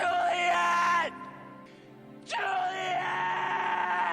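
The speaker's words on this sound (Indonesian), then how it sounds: "Ia pun berteriak dan menangis akan kepergian Juliet." Romeo screams and wails in grief in a Romeo and Juliet film, loud anguished cries that break off, pause in near silence, then return as a long sustained howl.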